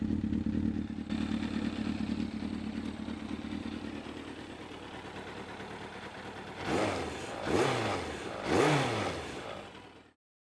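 A four-cylinder motorcycle engine runs at a steady idle nearby and is then blipped three times in quick succession, each rev rising and falling before the engine cuts off.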